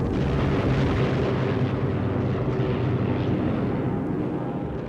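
A WWII air battle with Stuka and ground-attack aircraft fills the air with a loud, dense, continuous roar of aircraft engines and explosions, with no clear gaps.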